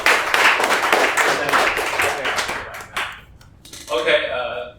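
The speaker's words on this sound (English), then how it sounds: "Round of applause for KJ," A crowd at a crypto demo showcase gives presenter KJ a burst of loud applause that tapers off into a few scattered claps, followed by a short voice.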